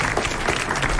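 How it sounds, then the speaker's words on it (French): Studio audience applause on a French television variety show, a dense wash of clapping that stays steady and fairly loud through the whole brief moment. "je vais vous demander d'applaudir"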